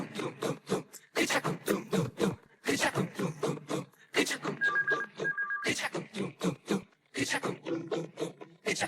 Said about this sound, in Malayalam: സാറേ, ഫോൺ അടിക്കുന്നു.